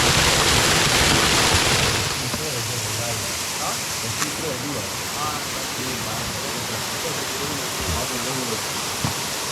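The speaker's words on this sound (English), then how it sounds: "we just made it to waterfall number 2. Pretty decent waterfall." A waterfall in a Colombian mountain forest roars as steady broadband rushing water, loud at first and then a little softer, with people talking faintly under it.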